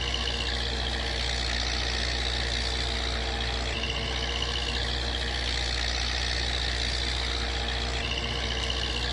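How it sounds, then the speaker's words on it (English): Steady engine drone of a tractor pulling a mower in Farming Simulator 19, a continuous low hum with a faint higher whine that holds level throughout, nothing else over it. "try out our new mower"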